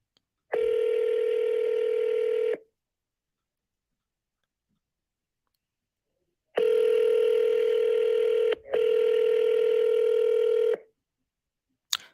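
An outgoing phone call rings back with a long single ring tone, a pause, then a double ring, each a steady electronic buzz, clear and close with no voices.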